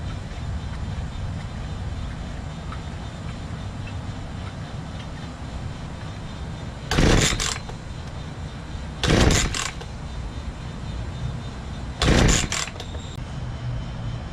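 A Redmax leaf blower is started with the choke on and throttle at full: three short, sharp rasping pulls sound several seconds apart over a low, steady background hum.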